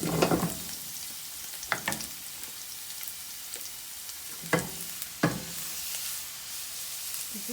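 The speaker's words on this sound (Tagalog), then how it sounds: "we preheat the pan with oil. So, we're gonna saute the" Garlic sautés in preheated oil in a pan for pinakbet: a steady, soft sizzle runs throughout, punctuated by a few sharp scraping stirs of a utensil against the pan, close and without talk.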